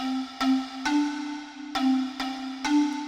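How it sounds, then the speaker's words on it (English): A bright Korg M1 pan mallet patch plays a short repeating melodic figure of plucky struck notes with a sustained ringing pitch underneath, played alone. "Then this is a sound I really like, this pan mallet."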